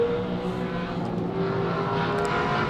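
Australian TransAm race cars roar at full throttle side by side in a drag race toward the finish line, a steady, loud engine drone with no pauses.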